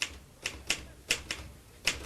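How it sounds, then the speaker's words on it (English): A typewriter clacks away in an office, with seven or eight sharp, irregular keystrikes close by and no voices over them. "Stop that typing."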